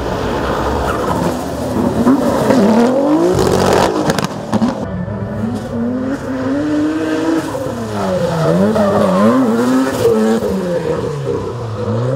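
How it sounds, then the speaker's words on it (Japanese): A D1 drift car at the Ebisu circuit: the engine roars and rises and falls in pitch while the tires squeal through the slides, loud and continuous for the whole stretch, with no talk. "タイヤの音がしとるですよねキュー"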